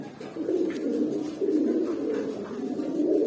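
Large pigeons kept in a loft coo in a low, continuous murmur that swells and fades in overlapping waves, close by and with no voices.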